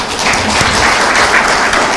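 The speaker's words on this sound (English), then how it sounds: "I want you guys to give us a very serious applause." Audience at a county health reforms report launch gives a burst of sustained, dense applause, loud and close, with no talk over it.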